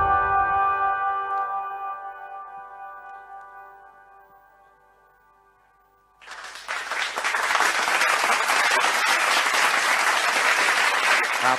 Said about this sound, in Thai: ต้องขอเสียงปรบมือดังๆนะครับ